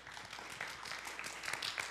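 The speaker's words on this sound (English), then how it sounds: "let's give a round of applause to our panelists and keynote speaker today" Audience at a parliamentary openness forum clapping for the panelists and keynote speaker, a short burst of faint, steady applause from across a conference hall.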